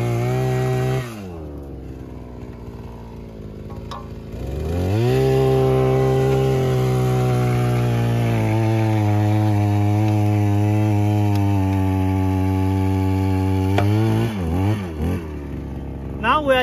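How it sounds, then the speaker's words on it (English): A small 62cc petrol earth auger engine starts and revs up, holding a loud, steady droning note before throttling down and sputtering near the end. "we will restart the drill and with the earth auger, and we will test it and show you."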